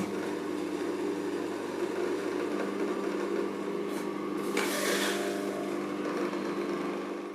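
A juicer grinds plum, beet and pineapple for raw vegan juice with a steady, fairly quiet motor whir. The sound turns briefly harsher and busier about two-thirds of the way through.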